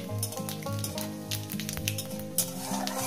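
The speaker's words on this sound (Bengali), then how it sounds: "কয়েকটাকে একটু ভেজে নেব।" Five-spice seeds and dried red chilies crackle in hot oil in the pan used for frying small river fish, a close, lively sizzle with light stirring clinks over a soft tonal background.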